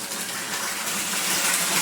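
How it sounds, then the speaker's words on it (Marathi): Water gushing steadily into a tank being filled outdoors for pesticide spraying of mango grafts, a continuous broadband rush, close and fairly loud, with no voices over it. "हे बघा समोर टाकी भरायला लावले आम्ही"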